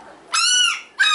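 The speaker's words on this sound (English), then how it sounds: "That's Momo right there barking." A Shiba Inu puppy barks twice, close and loud, each a high, harmonic yip, the first longer and drawn out, the second short, with a quiet room behind.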